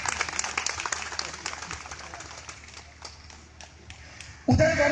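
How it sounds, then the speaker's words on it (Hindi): A crowd claps, starting loud and gradually thinning out, then a voice breaks in abruptly at the end. "तो धनुषधारी जी के लिए निश्चित रूप से जोरदार ताली इनके घर तक आवाज जाए।"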